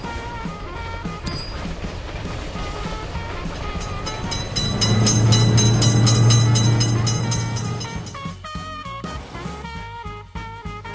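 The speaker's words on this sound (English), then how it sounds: "Train is in sight." At a motor vehicle level crossing, a passing train builds to a loud, close roar midway, with steady rolling rumble and clanking of wagons before and after.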